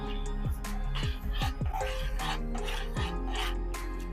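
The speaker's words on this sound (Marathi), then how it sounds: "आपल्याला हे सारण जे आहे ते एकदम घट्ट होईपर्यंत चांगलं परतून शिजवून घ्यायचं आहे।" Chana dal puran filling being stirred and sautéed in a pan until thick, with repeated scraping and rubbing strokes of a spoon against the pan, close and steady, some occurring in quick pairs, over a constant low background hum.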